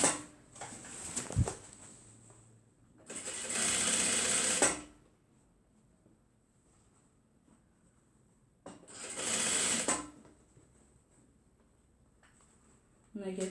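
A sewing machine back-stitching a tote bag runs in two loud, steady bursts of about two seconds each, separated by quieter pauses, with a voice speaking near the start.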